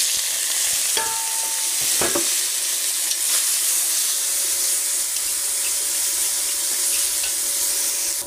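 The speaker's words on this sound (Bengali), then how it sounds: "এই যে কাঁচা পাকা লঙ্কা ভেজে নেব এর সঙ্গে" Green and ripe chillies frying in a pan, a steady bright sizzle throughout with a few scraping stirs early on, close and fairly loud.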